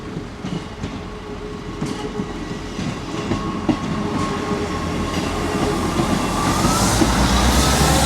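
A train rolls past a town-centre car park at night, a continuous rumble and rail clatter that grows steadily louder toward the end, with no voices.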